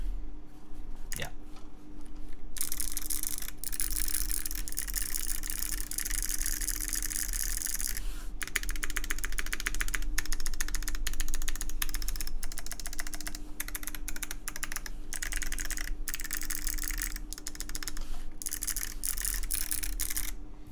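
Wuche Studio BigLucky clicky keyboard switches typed on at close range, a dense stream of sharp, rapid clicks with short pauses between bursts.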